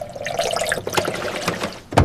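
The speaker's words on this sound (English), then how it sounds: "I pour detergent into the machine." Liquid detergent poured into a washing machine, a short close trickling gurgle with small splashes and a brief louder splash at the end.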